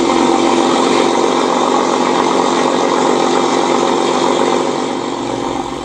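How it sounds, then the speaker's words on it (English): A Model Sounds Inc RC sound system plays a P-47 engine soundset at idle, giving a loud, steady, dense rumble that holds throughout and eases slightly near the end. "So you can tell that goes pretty darn loud, and that's at idle."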